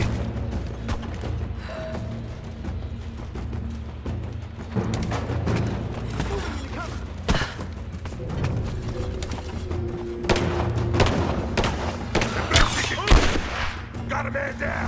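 Gunfire in Rise of the Tomb Raider, rapid volleys of shots and thuds at irregular intervals over a low rumbling game background, loud and close, with no talk.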